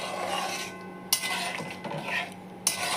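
A utensil stirs dried fenugreek into chicken keema in a pan, scraping and clinking softly over a faint simmer, with two sharper knocks against the pan.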